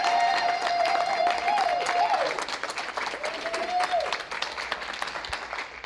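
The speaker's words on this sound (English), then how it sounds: "if everybody will clap as I introduce Titus Barlotta to the stage" An audience claps at a session as a speaker is introduced to the stage, with dense applause throughout and a voice talking briefly over it early on, the clapping thinning slightly toward the end.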